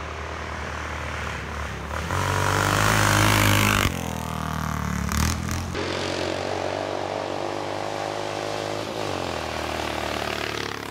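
A 1935 500cc racing motorcycle engine runs at a vintage bike event, a loud, continuous mechanical drone that swells as it revs, then settles to a steady rough idle.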